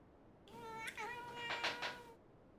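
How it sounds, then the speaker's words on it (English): A cat meows several times indoors, close and fairly quiet, a short rising call followed by a few more rapid meows, with no talking over it. "It's a meow."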